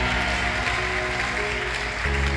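A church congregation at a multi-day celebration service applauds steadily, a dense wash of clapping lasting a couple of seconds, with sustained music tones underneath.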